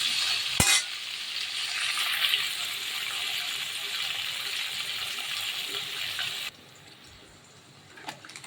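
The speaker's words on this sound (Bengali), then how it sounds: "পেঁয়াজটা ভাজা হয়ে এসছে" Sliced onion, tomato and green chili fry and sizzle in oil in a pan as they are stirred for a light fish curry. A steady, close hiss runs for about six seconds, then drops to a quieter simmer with a faint clink near the end.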